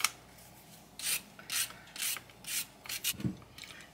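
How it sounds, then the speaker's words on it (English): Carrots being peeled by hand, a run of short rasping scrapes in a steady rhythm of about eight close strokes, crisp and distinct against a quiet kitchen background. "the first thing I'm going to do is just peel my carrots"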